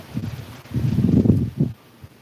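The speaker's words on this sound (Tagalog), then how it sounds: "mo makikita kung gaano kalakas yung hangin" Gusts of Typhoon Uwan thrash through leaves in a short burst of rustling: a quick flurry, a longer loud surge, then a final sharp rush, close to the microphone with no voices.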